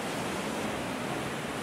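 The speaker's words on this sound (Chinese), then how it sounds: "这条是 Christy Falls 哦" Christie Falls, a small waterfall of blue glacier water in New Zealand's Eglinton Valley, roars as a steady, dense wash of falling water, close and constant with no voices.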